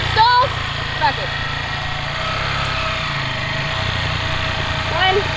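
A Honda Grom small motorcycle engine drones steadily through a wheelie, close and fairly loud, with brief surges of throttle near the start and the end.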